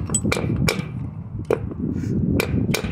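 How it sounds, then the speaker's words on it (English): Sharp metallic hammer taps, about six spaced strikes, as a piston is knocked down into its cylinder during a power hammer restoration, ringing over steady workshop background noise. "I'm just having to tap it down as I go."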